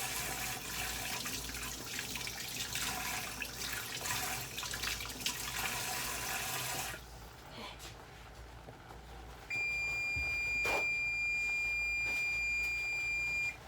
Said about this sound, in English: You want to make sure you wash your hands.